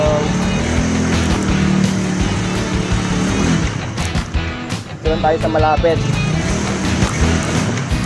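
A motorcycle engine hums and drones continuously through a ride to register the bike, with a person talking over it throughout and a brief burst of louder, choppier engine noise near the end.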